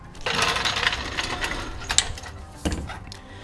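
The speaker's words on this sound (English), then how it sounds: "Who uses a torque wrench to take off lugs?" A torque wrench works the lug nuts off a car wheel on a Camaro or Firebird F-body, with close, gritty ratcheting and mechanical clicking and a couple of sharper metallic knocks.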